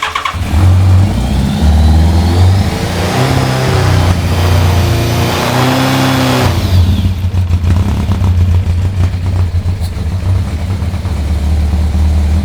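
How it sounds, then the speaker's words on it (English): A Yamaha FZR 1000 motorcycle engine cranks, catches and revs up and down for several seconds, then settles into a loud, steady rumbling run, close by with no talking. "We have the Yamaha FZR running!"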